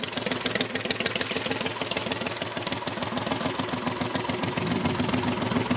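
A motorcycle engine idles steadily close by at a golf cart poker run during a town festival, a loud continuous rumble with a fast, even knocking pulse that holds throughout without pause.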